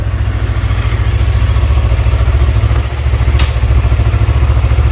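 A 2016 Yamaha YZF-R3 motorcycle engine idles steadily and fairly quietly nearby, with an even low pulsing rumble, a brief dip partway through and a short high whine near the end, with no talk.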